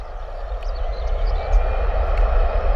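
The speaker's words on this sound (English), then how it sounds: "EasyJet A320 power set," EasyJet Airbus A320 at Bristol Airport spooling up for takeoff, a steady low rumbling engine roar heard from a distance, fairly loud and sustained throughout.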